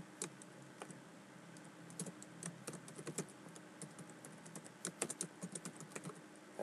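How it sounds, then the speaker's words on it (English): Fast typing on a computer keyboard, a steady stream of quick, crisp key clicks with a few louder bursts, close and fairly quiet with no talking. "I'm trying to type as fast as I can"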